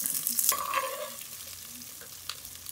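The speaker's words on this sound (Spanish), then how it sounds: "vamos a poner la cebolla" Onion frying in hot oil for pork picadillo, a bright burst of sizzle and stirring at the start that settles into a softer steady crackle, with one later clink.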